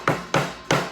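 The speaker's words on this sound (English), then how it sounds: "sometimes I'll leave it here and just hand hammer it" A hand hammer strikes a metal strap three times in quick, evenly spaced succession, each blow a sharp, close, ringing knock with a short decay.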